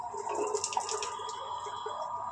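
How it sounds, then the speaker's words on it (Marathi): Water runs from a touch-sensor tap into a sink, a steady soft splashing stream with a few brighter drips and gurgles, close and moderately quiet. "ह्याला असं टच केलं की पाणी येते"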